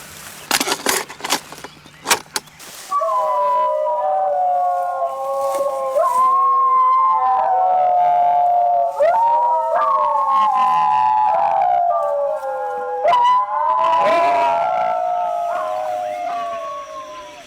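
A recording of singing dogs howling is played outdoors on a ridge, giving long overlapping wavering howls that rise and fall for many seconds after a few sharp knocks at the start.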